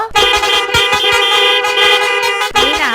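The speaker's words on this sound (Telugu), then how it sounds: "ఇక ఆ బైకు కాడికి పోయి హారన్ ఇంటే మీ చెవులకు చక్కెర వచ్చినంత పని అవుతుంది." A decorated motorbike fitted with about a hundred horns blares them together in a loud, dense, sustained chord, with brief dips and a renewed blast near the end.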